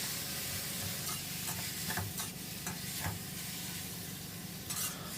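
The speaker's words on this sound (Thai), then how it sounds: "ผัดคลุกไปคลุกมาได้เลยครับ" Chinese kale and seasoning are stir-fried in a hot pan with steady sizzling and repeated scraping stirs, close up and without speech.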